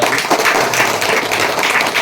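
Loud, sustained applause from a crowd at a charity trust event for elders, dense clapping filling the whole moment with no pause.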